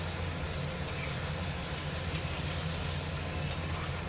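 New potatoes frying in a pan with Kashmiri chili powder for aloo dum give a steady, soft sizzle, with occasional faint scrapes from stirring.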